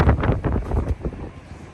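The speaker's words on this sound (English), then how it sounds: "Little windy, but it's alright." Wind gusts buffet the microphone outdoors at a car meet in Las Vegas, a loud, low rumbling roar that fades somewhat toward the end.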